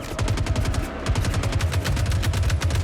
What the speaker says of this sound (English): Guns sound amazing.